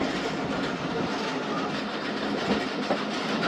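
A train passes at night on a Pakistan railway, the 47 Up Rehman Baba, giving a loud, continuous rumble of rolling wagons with faint clickety-clack from the wheels and no talking.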